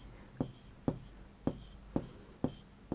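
Marker or chalk strokes on a classroom board for a Class 3 maths lesson, about six evenly spaced, distinct scratching taps close by with no talk over them.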